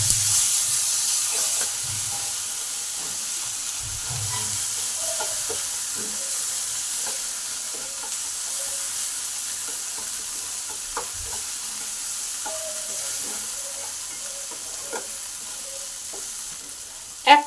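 Chopped tomato and a pinch of turmeric sizzle in a pan for spicy semolina, with a steady soft frying hiss throughout, a few low stirring knocks early on and a sharp clatter at the very end.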